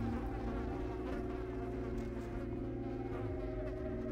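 Insects buzz steadily in the video game Vampire the Masquerade, a faint, continuous drone layered over a low ambient hum, with no clear pauses.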